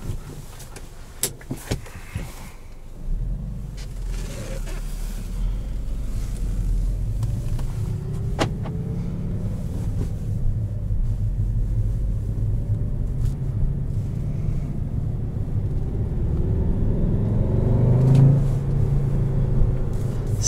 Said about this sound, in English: now for the drive of the 2017 GLI